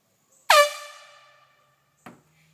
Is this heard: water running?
no